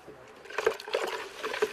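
A pesticide solution being stirred in warm water, giving soft liquid sloshes and faint trickling splashes, three small splashy bursts over a quiet background.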